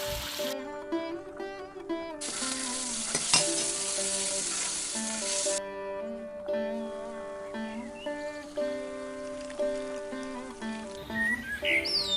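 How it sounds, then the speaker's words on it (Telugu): Tempering poured into a simmering Andhra-style mukkala pulusu vegetable curry, a loud, close burst of sizzling lasting a few seconds, then fading to gentle bubbling and stirring over background music. "కూర బాగా ఉడికిన తర్వాత అందులో మనం తాలింపుని యాడ్ చేసుకోవాలి"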